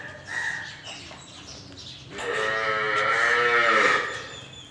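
On a farm selling freshly calved buffaloes and a cow, a long, loud bovine moo swells up halfway through and holds for about two seconds, after softer animal noises and faint bird chirps at the start.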